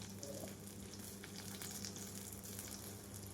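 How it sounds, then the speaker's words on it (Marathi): Ingredients for sambar roasting in a pan give a faint, continuous sizzle and crackle, even and unbroken throughout, with a low steady hum beneath and no voices. "थोडं भाजून द्यायचं त्याला"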